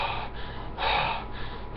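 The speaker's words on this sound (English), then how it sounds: "It feels so odd, it feels so bad, it feels so wrong breathing." A man at a webcam draws a deep breath, then lets out a sharp, close gasp in the middle, with softer breathing before and after.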